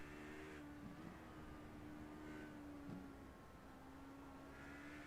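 An LMP2 prototype race car runs at Sonoma Raceway, a faint, distant engine drone with a steady humming pitch. Small shifts in the tone suggest gear changes, and there is no sharp tire noise.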